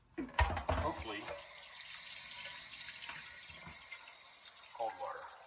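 Cold tap water streams steadily over a pitted, freshly cleaned cast-iron pan in a sink, a continuous broadband hiss after a few brief clanks at the start, with a faint voice briefly near the end.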